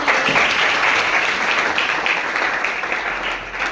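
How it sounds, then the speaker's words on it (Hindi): Steady applause from an audience at a government high school's National Science Day event, welcoming a short student play about exposing a fake godman, with dense clapping sustained evenly throughout. "उनका जोरदार तालियों के साथ स्वागत है"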